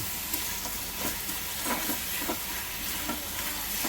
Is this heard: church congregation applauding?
no